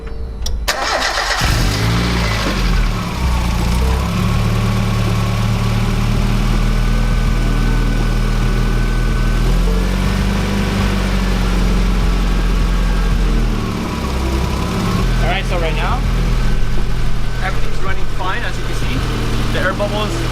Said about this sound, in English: then that's your sign to actually turn on the engine